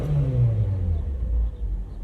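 A Nissan Micra K11 car engine runs steadily with a low, rumbling drone that rises slightly in pitch early on and then settles, loud and close, with no talking over it.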